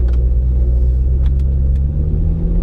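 Steady low engine rumble of a turbocharged car driving with a turbo oil scavenge pump, continuous and close, with a few faint clicks on top and no talking.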